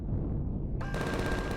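Gunfire from a ship's gun in Empyrion Galactic Survival, a sharp burst breaking in after a low rumble, followed by rapid repeated shots within a second and a half.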